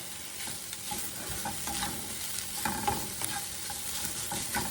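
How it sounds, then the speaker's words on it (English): Shrimp toast mixture is stirred in a pan, with a soft continuous sizzle and scraping, stirring strokes that rise and fall, fairly quiet and close, with no voices. "See, that's what it looks like stirring it up together."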